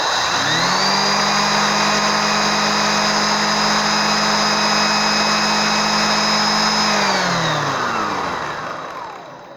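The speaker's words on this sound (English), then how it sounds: "Hopefully you'll be able to see the brush roll spin." A Numatic Henry Xtra vacuum cleaner with its brush roll spinning runs loud and steady with a strong motor whine, then winds down and fades near the end.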